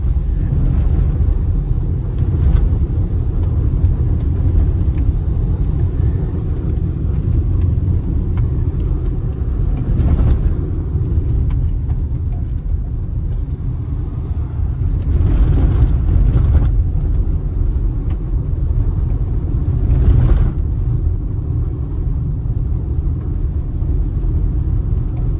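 A lifted 2019-2025 Toyota RAV4 Hybrid cruises along a road, a steady deep rumble of tires and cabin noise with occasional louder swells as it drives.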